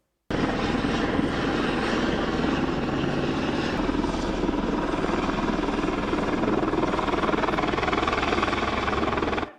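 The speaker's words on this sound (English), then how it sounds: "cows under a threat of a rock slide were airlifted to safety via helicopter" Helicopter airlifting cows in a Swiss village threatened by a rock slide, its rotor and engine roar loud and constant throughout, close by and without any voices.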